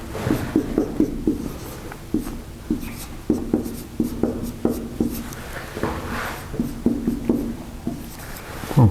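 Chalk or marker tapping and scraping on a board during a university lecture, a steady run of short strokes in quick succession over a roomy background hiss.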